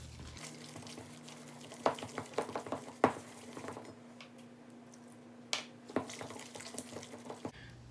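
A spoon stirs a mixture in a bowl until it turns thick, with a steady scraping swirl and scattered clinks against the dish, alone with no talk.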